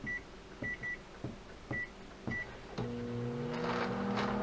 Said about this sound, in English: I'm going to put that in the microwave.